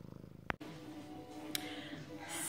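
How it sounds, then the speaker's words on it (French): A small kitten purrs in a soft, steady rhythm close by. A couple of sharp clicks break in partway through, and a hiss of background noise rises near the end. "Et mon petit chaton est réveillé."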